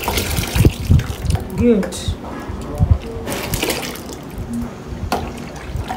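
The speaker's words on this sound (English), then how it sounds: "So I introduce my caustic soda into the bowl and stir" Caustic soda is poured into a bowl and stirred for homemade dishwashing liquid soap, giving close, uneven liquid splashes and sloshing knocks, with a voice speaking briefly over them.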